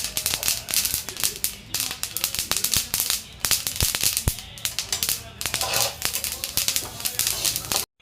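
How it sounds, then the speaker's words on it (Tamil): Flaxseeds popping and crackling while dry roasting in a pan, a loud close flurry of sharp irregular snaps and ticks over a sizzling background that continues without pause. "உங்ககிட்ட நான் சவுண்டு காட்டுறேன் பாருங்கள் எப்படி வெடிக்குது அப்படின்னு"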